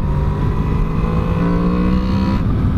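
A 2017 Honda VFR 800 motorcycle engine holds a steady, loud, growling drone at high revs, with a strong even tone that carries through the whole stretch before a slight drop near the end.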